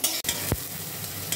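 Bhujia being fried and stirred in a pan for egg tadka, with a steady close sizzle broken by one sharp scrape of a spoon against the pan.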